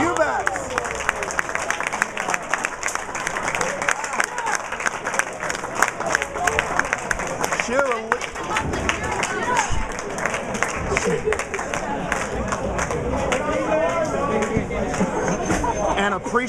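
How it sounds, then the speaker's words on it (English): A crowd applauds at a doubles match final with a patter of clapping that mixes with babble and cheering voices, while people talk over it throughout. "An appreciative crowd watches some amazing players as Solomon catches the double."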